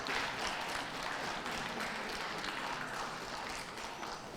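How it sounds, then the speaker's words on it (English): Spectators at a dog show ring applaud steadily as English setters and other breeds are presented, a dense wash of clapping heard from a distance and fairly quiet, with no voices above it. "Come on, some applause."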